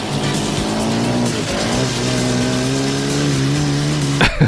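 Loud car engine revving and droning through a chase scene from the film Delta Force, pitch rising and shifting as it accelerates, with a sharp impact or crash burst at the end.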